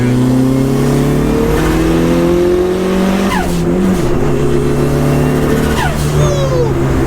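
A rare old-school hot hatch pulls hard on the street, its engine droning loud and close with steady revs that dip and climb through gear changes, punctuated by sharp rising sweeps and a brief tire chirp.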